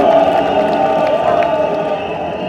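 A crowd at an outdoor Kenyan political rally applauds and cheers for Governor Simba Arati, a loud, steady wash of clapping and voices with no pauses.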